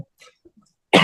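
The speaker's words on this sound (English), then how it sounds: "sorry, I got a cough." A single sharp, close cough bursting out suddenly after near silence with faint, scattered small noises.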